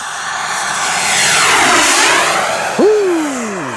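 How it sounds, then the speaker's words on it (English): An HSD Jets T-45 Goshawk RC model jet flies past, its turbine whine rising and falling in a loud sweep before a sharp, close pitch swing near the end, with no voices. "we're gonna go up, take this HSD T45 up again"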